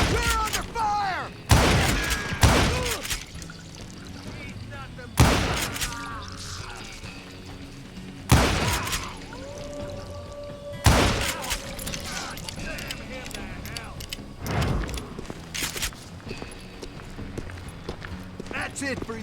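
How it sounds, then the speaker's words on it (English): Gunshots in the Western video game Call of Juarez: Gunslinger, sharp loud single cracks arriving every few seconds amid a gunfight, with faint background game sounds between the shots. "Who's shooting at us? We're under fire!"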